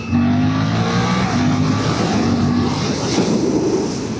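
A 2026 Suzuki GSX-8TT motorcycle engine revving while riding, a loud close continuous drone with a rising tone as the rider spins it up, plus wind rush over the microphone.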